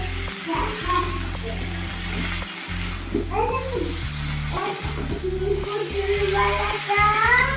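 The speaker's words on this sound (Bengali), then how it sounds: "এখন বাঁধাকপিটা মশলার সাথে ভালো করে মিশিয়ে নেব" Steamed cabbage being stirred in a pan with spices, salt and turmeric, giving a steady sizzle with repeated scraping strokes of a spoon against the pan and a low background hum throughout.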